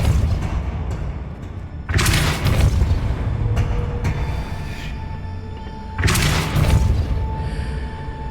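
Depulso force spell cast in Hogwarts Legacy, heard as two heavy booming blasts a few seconds apart over a steady low ambient hum from the game.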